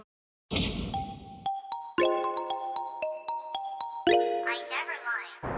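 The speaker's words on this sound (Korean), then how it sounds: "야, 원우가 전화 왔다" A phone ringtone for an incoming call plays a bright electronic melody of stepped, ringing notes, loud and close, after a short noisy burst at the start.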